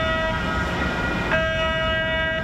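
Train horn sounding in downtown San Diego, a sustained loud multi-tone blast with rail rumble beneath, briefly breaking and resuming.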